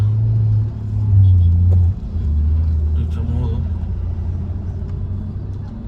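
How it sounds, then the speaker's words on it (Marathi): Road traffic in Pune on a congested street, a steady low engine rumble with a louder vehicle passing near, under continuous talk. "ट्रॅफिक बरंच आहे"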